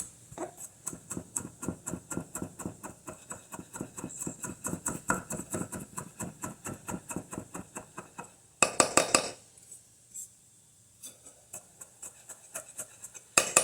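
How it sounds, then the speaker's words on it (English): A knife chops ginger finely on a cutting board for a winter stew, giving a fast, steady run of close, crisp taps that pauses briefly and ends with a few scattered knocks. "I'm going to go in with my knife and make it a little finer"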